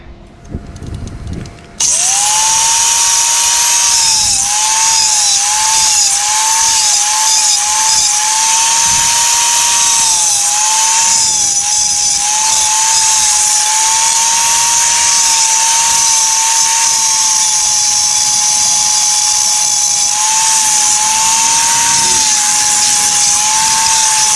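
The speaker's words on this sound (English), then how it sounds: "You just grind that down just a little bit." A power grinder works down hot rod body panels, its steady high whine sustained loud and close for a long stretch, wavering slightly in pitch as pressure on the metal changes.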